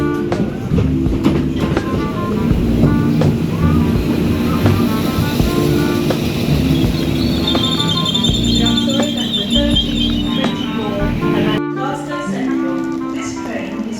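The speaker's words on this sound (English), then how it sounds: "Train now approaching on platform 3, please stand well behind the yellow line until the train leaves." A train at Warrington Bank Quay station gives off a loud, steady rumble with sustained tonal hum, a higher whine rising partway through, before the sound abruptly drops away near the end.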